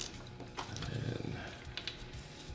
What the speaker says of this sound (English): So when I go back like this, it allows the wrench to ratchet.